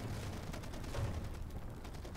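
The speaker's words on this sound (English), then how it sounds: "Stop shooting me!" Gunfire in the video game Far Cry 2, a rapid continuous burst of shots crackling without pause across the whole moment, fairly loud and with no voices over it.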